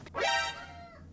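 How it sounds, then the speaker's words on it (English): A single drawn-out cat meow, rising then falling, fairly clear against a quiet background with a low steady hum. "Little cat."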